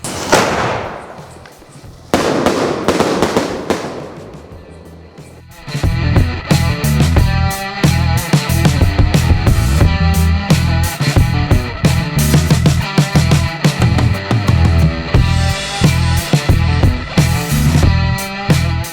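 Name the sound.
paper cracker fireworks going off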